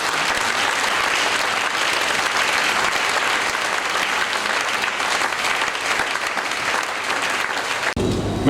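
A church congregation at a prayer marathon applauds, a sustained dense wash of clapping from many hands that stays loud and even for several seconds before cutting off abruptly.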